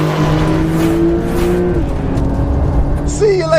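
A Porsche 911 and a Corvette accelerate hard in a drag race, engine tones rising and holding with a shift, close and loud, while people talk over the noise.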